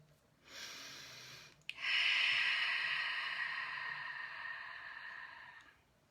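One slow, deep meditative breath taken close up in a quiet room: a short intake, then a long steady airy exhale fading out, with no talking.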